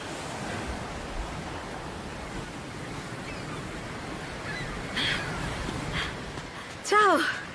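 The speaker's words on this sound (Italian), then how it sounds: "le onde al mattino sono fantastiche" Morning ocean waves wash onto an Algarve beach in a steady, far-reaching surf hiss, with a voice and a brief higher call rising over the noise near the end.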